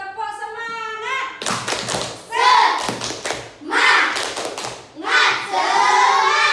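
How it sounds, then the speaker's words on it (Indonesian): A class of children does a rhythmic tepuk semangat clapping chant led by a teacher: loud bursts of hand claps in patterned groups, with children's voices chanting along and talk heard at the start. "Sekarang kita tepuk semangat dulu ya."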